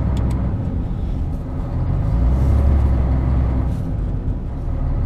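A 2003 MAN TGA truck with an automatic gearbox cruising along a Moscow ring road, its cab filled with a continuous low road-and-engine rumble that swells slightly midway.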